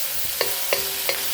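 Pork being sautéed with white pepper and oyster sauce for lo mein, three evenly spaced metallic spatula taps against a wok over a soft steady sizzle, close and brief, no talking.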